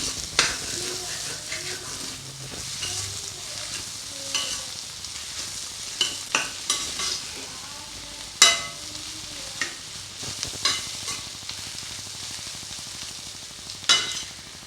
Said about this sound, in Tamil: முட்டையை நல்லா கிண்டியாச்சு இப்போ காய்கறியோடு நல்லா மிக்ஸ் பண்ணிடலாம்